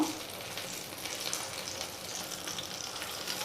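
Steady, soft sizzling of brinjal frying in a pan, a continuous crackle with no voices.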